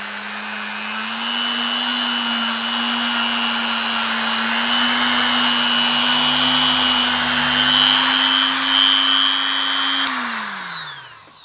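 A Scotch-Brite wheel spins against the lever of a Daisy No. 155 BB gun, giving a steady, loud motor whine with a high grinding hiss. It holds for about ten seconds, then the pitch falls as the motor winds down. No one talks.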